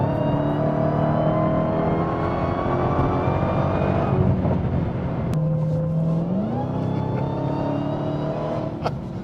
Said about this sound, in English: But this engine, man, this engine is crazy. Just listen to the supercharger.